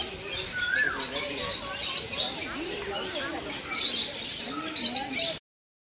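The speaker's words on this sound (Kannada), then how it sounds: "ನೋಡಿ ಎಷ್ಟೊಂದು ಲವ್ ಬರ್ಡ್ಸ್ಗಳಿದ್ದಾವೆ." Lovebirds at Mysore Zoo chirp and twitter in a busy, overlapping chorus, close and fairly loud, with sharp high calls scattered throughout before the sound cuts off abruptly.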